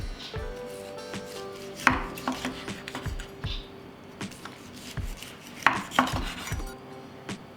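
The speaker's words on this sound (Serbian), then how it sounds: "Svinjsku butkicu iseckat ću na manje komade." Smoked pork hock chopped into small pieces with a knife on a board, a series of sharp, close thuds at an uneven pace with occasional clinks.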